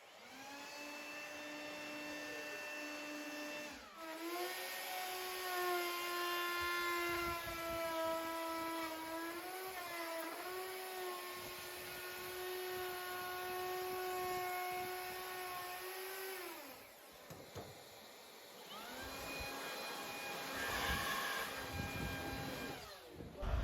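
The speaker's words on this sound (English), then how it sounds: "So I'm using this battery blower because we don't have any compressed air at the moment in the shop." Battery-powered leaf blower blowing dust off a live-edge wood project in a workshop. It whines loud and close, the motor pitch rising and dipping as the trigger is worked, with a brief stop before it starts up again.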